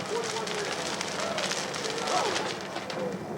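Fire burning through insulated test buildings, including a cellulose-insulated structure, gives a continuous broadband crackling roar that stays steady throughout, with faint bird-like calls in the background.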